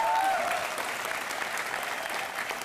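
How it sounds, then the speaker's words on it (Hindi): Studio audience at a comedy show applauding for Athiya Shetty, dense continuous clapping at an even level from start to finish, with a brief voice at the very beginning. "आथिया शेट्टी के लिए जोरदार तालियां हो जाए।"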